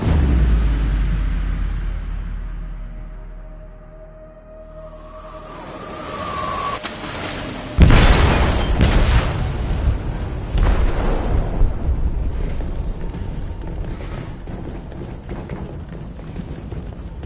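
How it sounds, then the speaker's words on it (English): A game explosion aboard a ship, set off in the hold: a sudden heavy boom hits mid-clip after a quieter stretch of low rumble and a rising tone, then a long roaring, crackling rumble sustains to the end. "They detonated an explosive in the hold."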